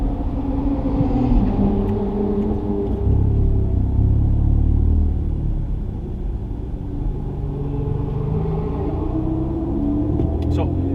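Car engine running at Spa circuit, a deep continuous rumble that swells slightly midway and settles, close and steady, with voices talking over it.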